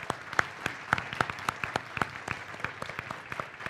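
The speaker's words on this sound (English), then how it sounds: "Please give a warm round of applause to Melinda Bush, our Illinois State Senator." A small audience at a civic event honoring women in government claps in a sparse, uneven patter of distinct individual hand claps, close and moderately loud, lasting under four seconds.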